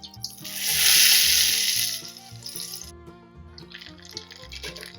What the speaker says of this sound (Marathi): वडे मीडियम गॅसवरच तळा